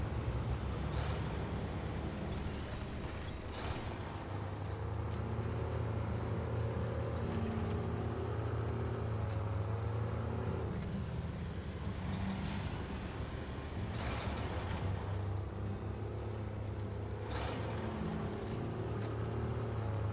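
Truck engine in the SnowRunner video game, a steady low drone that runs throughout at a moderate, even level, with a few brief hisses and clunks over it and no talking.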